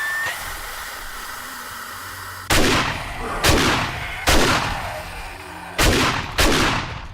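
Loud gunshots in the zombie survival game 7 Days To Die, five heavy reports spaced about a second apart, each ringing out with a hissing decay over a faint background hum.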